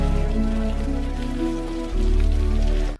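Heavy rain pours steadily in a dense, continuous wash under a layer of tonal background music, loud and unbroken throughout.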